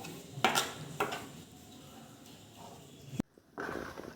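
Curry leaves being stirred in hair oil in a pan: a few clattering scrapes of a spoon against the metal pan, with a soft background hiss and a brief pause before stirring resumes.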